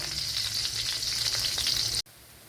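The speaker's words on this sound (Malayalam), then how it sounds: "ഇതൊന്ന് ഫ്രൈ ചെയ്തെടുക്കാം." Raisins and ingredients fry in a pan for semiya biriyani with a steady, close, bright sizzle, stirred now and then, before the sound drops sharply near the end.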